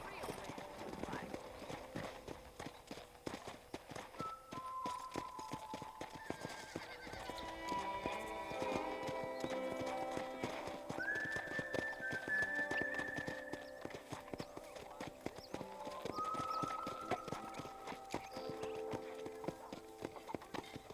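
Hooves clip-clop in a steady rhythm while a horse whinnies now and then, with voices talking over the hoofbeats and faint background music, in the video game Red Dead Redemption.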